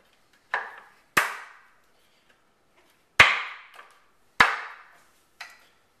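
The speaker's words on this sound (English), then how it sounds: "You can use the rubber mallet at this point if you need to hammer any of these joints together." A rubber mallet knocks wooden joints of an outdoor rocking chair together: five sharp, close strikes at uneven intervals, with silence between them.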